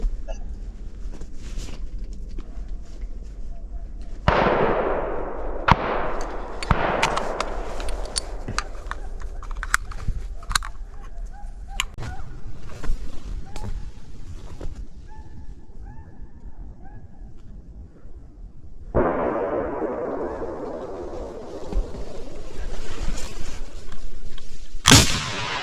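Hunting rifle shots ring out during a wild boar and deer hunt, a few sharp loud cracks with decaying echoes spaced across the clip amid quiet outdoor background and scattered smaller clicks.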